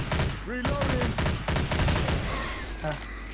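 Rapid bursts of gunfire from a bot shooting behind the player in Left 4 Dead 2, loud clustered shots overlapping in quick succession under excited talk.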